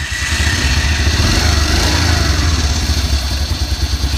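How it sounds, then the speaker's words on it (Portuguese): A motorcycle engine, just repaired after a starter fault, runs close and loud with a fast, steady, lumpy idle and rattling clatter. "Vou mostrar para vocês aí a moto funcionando."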